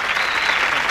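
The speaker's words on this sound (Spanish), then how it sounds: "Un aplauso para Zeta." A 1986 TV studio audience gives Soda Stereo's Zeta a short, loud burst of thick, continuous clapping.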